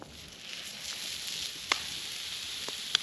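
Steak and onions frying at a beach campsite in South West Western Australia, with a steady close hiss of sizzling and two sharp pops, and no one speaking.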